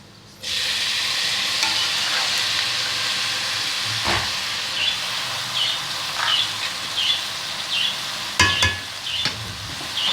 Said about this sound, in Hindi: ये चावल हम इसमें मिक्स करेंगे